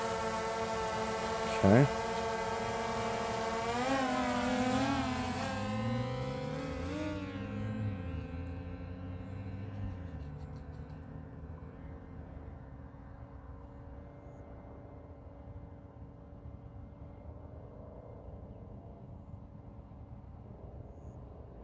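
A DJI Air 2S drone spools up and lifts off, its high whining propeller buzz rising and wavering in pitch as it climbs away, with a brief spoken word near the start.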